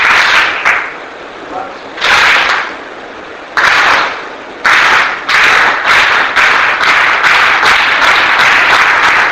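Teachers at a classroom workshop clap together in a clapping game, producing sharp, unison bursts of claps separated by pauses, the bursts coming faster toward the end.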